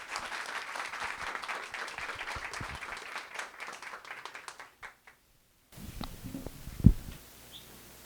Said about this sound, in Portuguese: eu vou encerrar pedindo uma salva de palmas para essas personalidades que tivemos aqui hoje